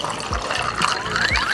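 Soup broth is poured to refill a serving, a short bubbling trickle of liquid close by with a rising fill tone.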